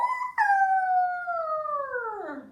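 A voice imitates screeching tires with one long, high whine that slides slowly downward and fades over a couple of seconds, close and clear.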